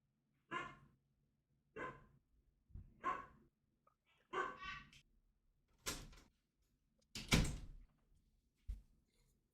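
A dog barks about eight times in evenly spaced single barks, loud and close, with silence between them and a couple of heavier thumps near the end.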